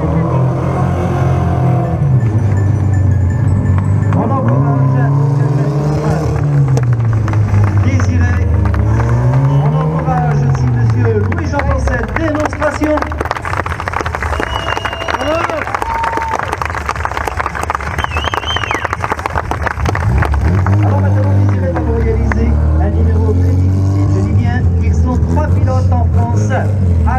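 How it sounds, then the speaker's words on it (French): A stunt car balanced on two wheels at a Hell Drivers show in Le Guilvinec, its engine revving and wavering up and down, loud and sustained beneath someone talking throughout, with faint crowd noise. "Il va maintenir son véhicule en équilibre sur deux roues à la force de son poignet."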